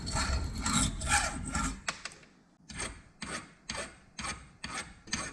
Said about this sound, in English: Go ahead and deburr it with this file here, so we have a nice edge to start with.